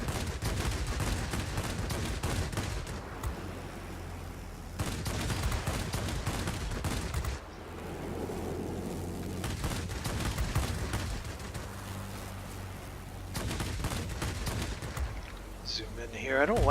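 Rapid bursts of cannon fire from a Nakajima Ki-84 Hayate fighter in the World of Warplanes game come in several loud clusters of a few seconds each, separated by steady engine drone and occasional radio chatter.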